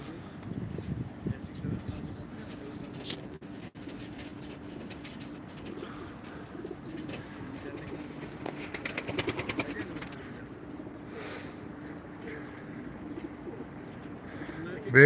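Soft, low cooing of pigeons repeats throughout, with someone talking over it and occasional flapping and rustling nearby.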